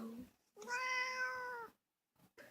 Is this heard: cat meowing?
yes